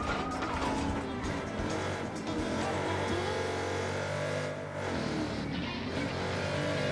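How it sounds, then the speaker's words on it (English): A car in Watch Dogs 2 drifts around a go-kart track, its engine droning and revving continuously up close with tyre squeal and mechanical whine, no talking. "That's some nice drifting right there."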